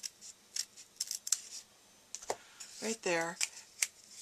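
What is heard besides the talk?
scissors cutting paper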